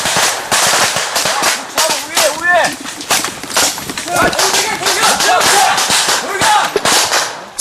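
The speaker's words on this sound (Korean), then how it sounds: "그 순간 적의 기습 공격이 시작됐다. 희미한 불빛과 총소리뿐 어디서 총알이 날아오는지도 분간하기 어렵다." Gunfire erupts in a surprise attack during Korean army combat training at the KCTC: dense bursts of sharp, loud shots cracking in rapid irregular succession, nearby and continuous throughout.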